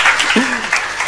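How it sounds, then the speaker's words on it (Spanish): An audience breaks into brief applause for a waiter, a dense burst of clapping with a voice sounding over it. "Un aplauso para nuestro camarero."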